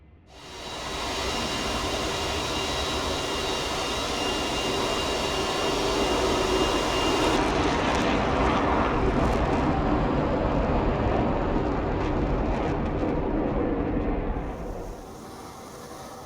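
Saab Viggen jet engine idling in the flight simulator DCS World, a loud steady roar with a high whine that drops away partway through, continuous throughout before easing off at the end.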